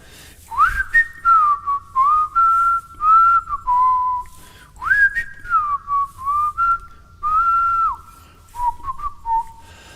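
Someone whistles a melody alone, clear sustained notes in two repeating phrases with short breaths between them.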